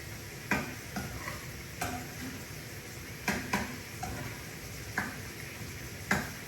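Eggs frying in a pan under a constant sizzling hiss, with a utensil scraping and tapping the pan every second or so.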